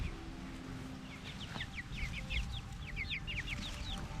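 Backyard hens roaming a permaculture garden, clucking softly in short, scattered calls over a faint, steady outdoor background.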